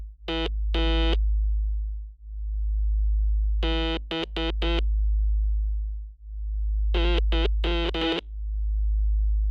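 Morse code for the letters A, B and C plays as steady electronic beeps in three separated groups, short and long tones alternating over a constant low hum.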